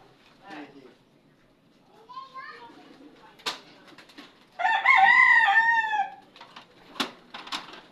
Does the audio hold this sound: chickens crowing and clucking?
yes